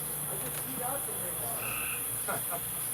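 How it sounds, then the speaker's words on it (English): Frogs croak outdoors after rain, several soft calls scattered over a steady insect and cricket chorus, with a faint murmur of voices in the background. "Are those frogs?"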